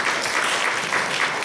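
A church congregation claps during a Sunday worship service, a brief burst of steady, fairly dense applause from a roomful of people.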